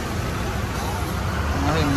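Heavy highway traffic on the way toward Pen in Raigad, Konkan, rumbles as a continuous low roar of engines and tyres from nearby vehicles, with a voice talking over it.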